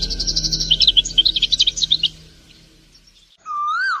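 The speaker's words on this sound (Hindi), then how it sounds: "ठीक उसी वक्त टूनी चिड़िया जोर से चीख उठती है।" A cartoon bird in a fairy-tale forest cries out with rapid, high chirps and twittering up front, then after a short lull gives a loud, rising, sliding squawk at the end; no talking.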